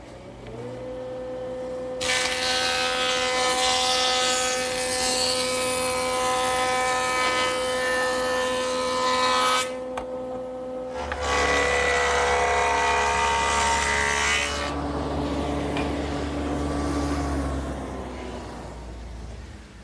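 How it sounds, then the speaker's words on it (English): A jointer machine runs loud and steady while wooden board edges are passed through it in two long cutting passes, the motor humming on between and after them. "Now I'll just joint both edges nice and smooth."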